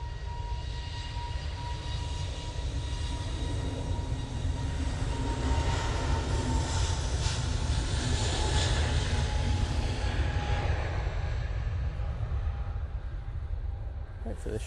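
A Cathay Pacific airliner takes off at Manchester Airport, a steady, loud jet engine roar with a rushing broadband wash that holds and then eases slightly toward the end, with people talking over it.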